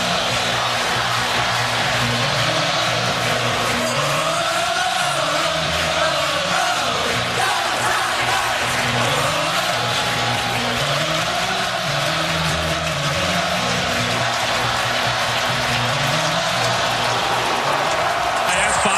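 Packed football stadium crowd roaring during Clemson vs Louisville, a loud sustained wall of cheering and yelling that swells and ebbs, with a commentator's voice over it.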